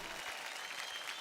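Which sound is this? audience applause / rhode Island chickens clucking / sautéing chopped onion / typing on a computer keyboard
audience applause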